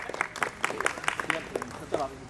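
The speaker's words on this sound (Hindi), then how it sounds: "एक बार जोरदार तालियों से अभिनंदन" An audience at a Holi gathering and honour ceremony claps in steady applause while a voice talks over it.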